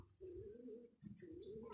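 A pet parrot named Mithu gives two soft, low cooing calls, faint and close, separated by a short pause, ending with a brief sharp chirp.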